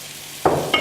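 Vegetables for ratatouille, including squash in olive oil, sizzle in a frying pan, with a sudden burst of frying and a scraping stir in a very brief moment.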